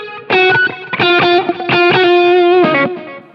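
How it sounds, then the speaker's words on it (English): Electric guitar solo through a distorted effects snapshot with a slight chorus shimmer, a run of sustained and quickly picked melodic notes played loud and alone, in a lead line for a song. "So I switched over to my guitar solo snapshot."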